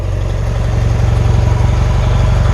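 1977 BMW R100S motorcycle engine idling with the choke on, close and loud, a steady low throbbing pulse with a slightly uneven rhythm throughout.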